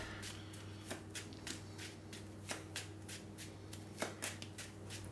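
A deck of game cards for a tabletop campaign game is shuffled, giving quiet repeated riffle and tap bursts at an irregular rhythm, close and soft, with no talk.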